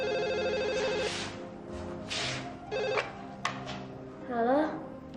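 A telephone rings in a household scene of an Indonesian TV drama, its electronic ringtone sounding in two short bursts while voices talk around and between the rings.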